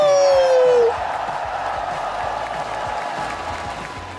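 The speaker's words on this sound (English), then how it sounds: "Let me hear you make some noise." Crowd at an esports watch party for a Valorant Masters Toronto match cheers and applauds steadily, a dense wash of claps and voices filling the whole stretch after a brief tonal sound at the start.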